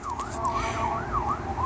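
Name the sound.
passing emergency vehicle siren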